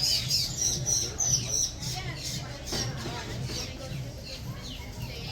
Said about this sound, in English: You can see all kinds of Asian birds.